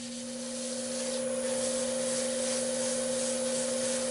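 Sanding a turned wooden clock on the lathe: a continuous rubbing hiss over the steady hum of the spinning machine, building slightly at the start and then holding level, with no voices.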